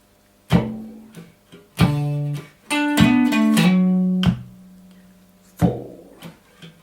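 Electric guitar playing the intro of a song, thumb-fretted notes and a plucked open fifth string, a few separate picked notes and ringing chord shapes with short pauses between, close and alone.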